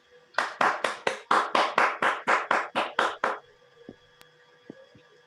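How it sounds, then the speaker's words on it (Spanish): About a dozen sharp, evenly spaced handclaps ring out close by to honor the master Mohamed Chales, then stop, leaving a quiet room with a few faint taps. "Un aplauso para el maestro Mohamed Chales."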